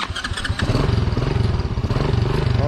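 A rented motorcycle in Da Nang starts up and settles into a steady, close, rumbling run, the engine note loud and continuous with a brief clatter at the start.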